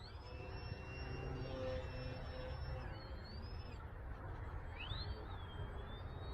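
An RC FT Mustang model airplane flies overhead with a steady, fairly loud motor whine that rises and dips in pitch as it passes and maneuvers, with no talking.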